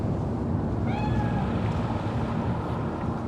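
A cat in Cyberpunk 2077 gives one short rising meow, heard clearly over a loud, steady rumbling ambience like wind or water, with no voices.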